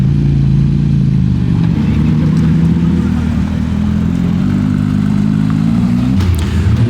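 Several Porsches idle and creep forward as they pull out of a dealership and line up at a cars-and-coffee meet, a loud, steady low engine rumble with occasional revs, continuous throughout.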